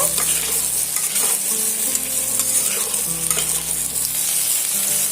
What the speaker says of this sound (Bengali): আলু পটল দিয়ে সমস্ত মশলাগুলো আমি এইভাবে আলু পটলের সঙ্গে মেখে দেব